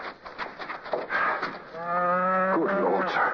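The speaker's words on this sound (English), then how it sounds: "It's a cow." Cow mooing, one long low drawn-out moo that swells and falls, close and clear, with a short lead-in before it.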